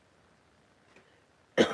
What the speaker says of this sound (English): I don't mean to cough like that.